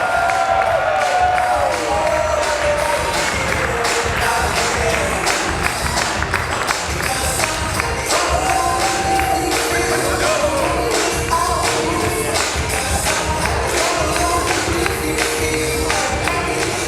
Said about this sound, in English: can you clap your hands for the bride and groom as they cut the cake?